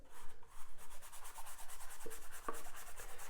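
A paintbrush scrubs paint onto an 8x10 canvas in quick rhythmic back-and-forth strokes, faint and close, with a couple of small taps, no talking.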